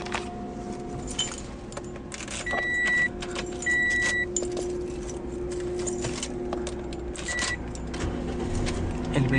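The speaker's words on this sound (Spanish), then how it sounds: "El vehículo enciende correctamente" A 2012 Toyota Yaris sedan with automatic transmission starts up, the engine catching and settling into a steady idle, with faint key jangling and a few short electronic chimes over the running motor.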